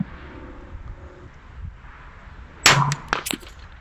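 Shots fired at 100 yards in gusty wind: a loud crack followed by a couple of quicker reports near the end, after a stretch of low wind rumble and quiet handling noise.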